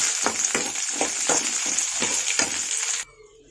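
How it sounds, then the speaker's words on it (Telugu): Soaked, chopped cashew nuts sizzle in hot ghee for jaggery semiya payasam, with a loud steady fry and rhythmic stirring scrapes for about three seconds before the sizzle abruptly cuts off. "ఇప్పుడు జీడిపప్పు ఫ్రై చేసుకుందాం."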